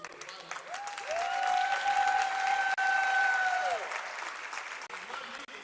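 A crowd applauds for Congressman Al Green at the investiture of a Texas Southern University president, with steady clapping that swells and holds for several seconds. Sustained tonal whistles or cheers ride over the clapping.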